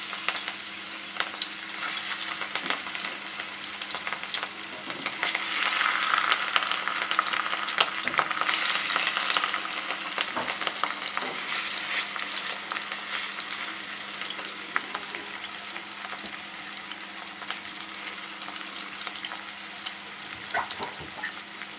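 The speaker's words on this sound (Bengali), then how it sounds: "এখন কড়াইটি গরম হয়ে গেছে। আমরা পরিমাণ মতো সাদা তেল দিয়েছি, কড়াইটিকে তেল দিয়ে মাখিয়ে নিয়েছি। এখন আমরা মাছটি দিয়ে দেব।" Rohu fish frying in hot white oil in a wok gives a steady, close sizzle with a dense crackling hiss that swells louder midway and carries on without let-up, with no voices.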